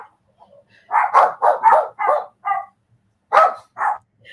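A dog barks in a quick burst of about eight sharp, close, loud woofs, followed by a short pause and two more barks, with no talking over them.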